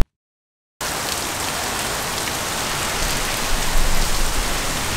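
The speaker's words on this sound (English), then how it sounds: "Just a little rain." Steady rain falling in San Antonio, Texas, a dense even hiss of drops on surfaces that starts abruptly after a short silence and holds constant, slightly heavier near the end.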